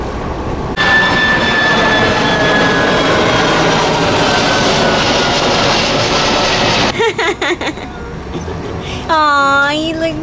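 A loud, continuous roar of an Amazon airplane's engine fills the air overhead with a rising whine, heard from a boat, then gives way to people talking nearby.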